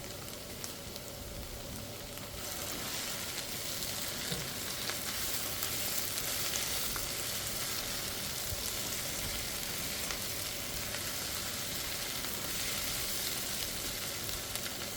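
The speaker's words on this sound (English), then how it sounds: "Add in the mushrooms." Mushrooms sizzle and fry in a very wide pan over medium-high to high heat, a steady dense crackling hiss that holds evenly throughout with no voices.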